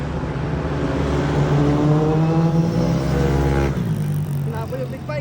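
A Yamaha NMAX V2 scooter fitted with RCB SP500 mags rides along a road, its engine droning loudly and steadily, rising in pitch and then easing off near the end.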